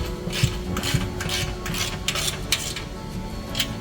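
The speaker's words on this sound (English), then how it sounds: "Then we'll want to get all of them snugged up." A ratchet snugging bolts on a hitch-mounted tire carrier: rapid metallic clicking pawl bursts in a rhythmic series, close and fairly loud over a steady mechanical hum.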